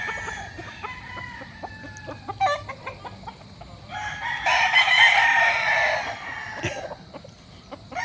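Fighting roosters at a farmyard in Barangay Santor, Tanauan City, Batangas: scattered clucks and short calls, then a loud crow in the middle, with more clucking after, heard nearby over faint background noise.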